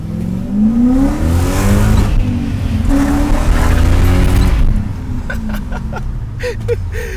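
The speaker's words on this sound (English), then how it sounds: "Both tires spinning at all times." A BMW 540 drifts on a wet road with both tires spinning, its engine roaring loud and sustained up close before the revs drop away near the end, leaving scattered crackles and pops.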